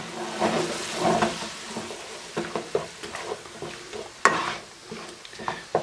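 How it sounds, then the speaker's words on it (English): Beef with curry powder, garlic and fresh ginger is stirred in a sizzling pan for a Thai curry, with a steady fry and scraping stirs and a few sharper utensil knocks. "We're going to stir this all up."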